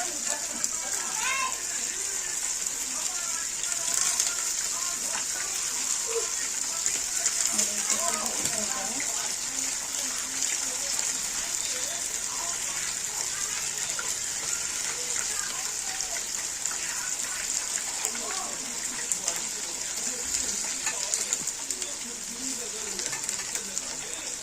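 Pieces of chicken pakodi fry one at a time in hot oil, giving a steady, dense crackle and hiss that runs without a break at moderate volume.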